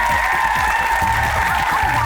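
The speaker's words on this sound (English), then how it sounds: "Give him a round of applause." Audience clapping at an aggressive inline skate skills showcase, a dense, loud burst of applause from a crowd that holds steady throughout with faint cheering underneath.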